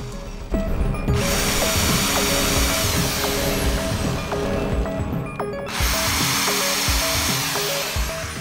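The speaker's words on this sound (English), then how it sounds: "I used a larger bit to drill just a little bit into the box" A power drill bores a shallow countersink into a wooden box, whirring loudly and steadily in two long runs, with a short pause between them and no talk.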